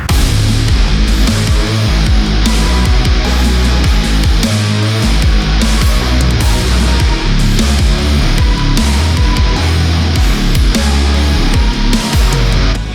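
A loud, polished band-style track plays with heavy low bass, steady drums and layered instruments, full and continuous throughout.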